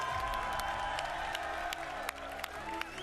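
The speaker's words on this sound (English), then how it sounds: "Can we get a round of applause for Stig, everyone?" A conference crowd at an Xbox showcase applauds and cheers, a broad wash of clapping with occasional sharp whoops and spikes, fairly faint and distant.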